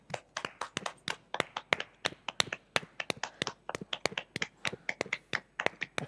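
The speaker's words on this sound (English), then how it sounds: "please give yourselves all a really big round of applause" Participants at an environmental awards event applaud, a small group of hands clapping in sparse, uneven bursts, close and fairly quiet, with no talking.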